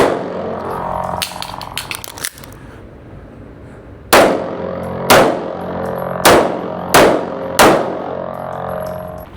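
Gunshots fired by a shooter moving at a shooting range: a loud, sharp run of single shots spaced about a second apart, each with a ringing tail, after some earlier rattling clatter.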